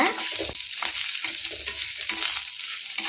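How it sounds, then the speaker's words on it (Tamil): Chopped coconut pieces frying in oil for a gourd chutney, a close, crackling sizzle with stirring and scraping in the pan, steady and bright throughout. "அதனால் தேங்காவை நான் எண்ணெயில் ஆட் பண்ணியிருக்கேங்க"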